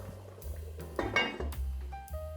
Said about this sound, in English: I'll put the lid on and let it simmer